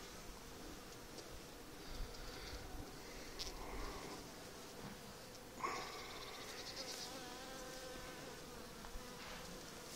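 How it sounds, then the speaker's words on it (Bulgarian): Bees hum at a beehive, a dense layered buzzing that stays close and steady throughout with some individual insects droning louder as they pass, plus faint rustling and no talking. "Ама си пчеличка, е."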